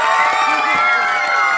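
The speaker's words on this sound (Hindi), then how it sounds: "तालियां बजाइए इस बात पर।" A crowd gathered for a cement concrete road inauguration in Aref Colony ward roars with loud, sustained cheering and shouting, including higher children's voices, in a dense continuous wall of sound.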